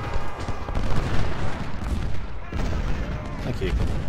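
Rolling musket and cannon fire from a Civil War battle in Ultimate General: Civil War crackles continuously, a dense, uneven volley of shots and dull booms at mid distance, with a voice speaking faintly over part of it.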